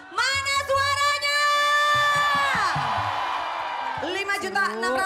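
Live audience of townspeople from Cilacap at an Indonesian TV event yelling, whooping and cheering loudly in a sustained roar, with high drawn-out screams that dip midway before rising again.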